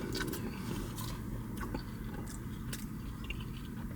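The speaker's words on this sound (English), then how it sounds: "I'm gonna go in for a fry" Close, soft biting and chewing on Chick-fil-A fries, a steady moist mastication with a few crisp crunches, heard alone without talking.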